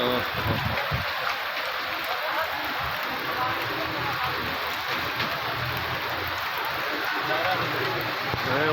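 Heavy downpour at a Karachi vegetable market, a steady dense hiss of rain on surfaces throughout, with voices talking underneath.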